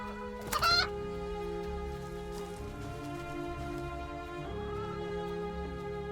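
A chicken clucks in a witchy folklore video game: one short cluck burst near the start, over steady game music and ambience with no talking.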